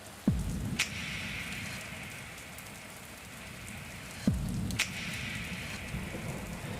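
Steady rain pours down over a long stretch, with a few sharp cracks and rumbles of thunder breaking through the hiss.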